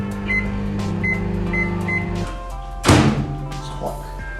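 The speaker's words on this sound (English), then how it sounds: "Microwave, I've experimented with the microwave time. I found that the best time to cook it all through is 3 minutes." A microwave oven cooking a protein cake hums steadily with repeated beeps, then stops, and its door opens with a loud thunk and clatter nearby. Voices are faintly present.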